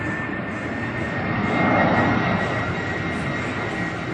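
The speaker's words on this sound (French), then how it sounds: "On voit tout le temps des avions arriver" Airplane arriving over Mykonos, a loud broad jet-engine roar that swells slightly toward the middle and stays steady, heard alone without talk.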